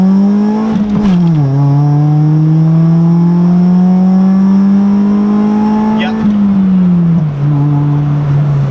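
Inside a stock Honda Civic EG hatchback, the engine drones loudly in a steady rising pitch up to the rev limiter, with two shifts where the tone dips and climbs again.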